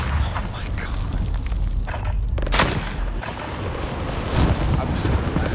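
Explosions from rocket launchers booming in the Warzone video game, heavy low-end blasts rolling under constant noisy game audio, with a sharp loud burst around the middle; voices are faintly present.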